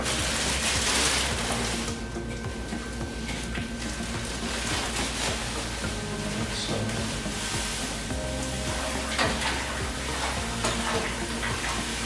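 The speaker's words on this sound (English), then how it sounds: "And stir as you mash in to avoid any dough balls." Steady wet swishing and churning as roughly 9 kg of grain is stirred into hot water while mashing in for homebrewed beer, continuous and close throughout, with a faint low hum underneath.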